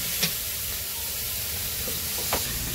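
Spices for chicken curry sizzle as they fry in a pan in a Bangladeshi village kitchen, a steady close hiss with no voices.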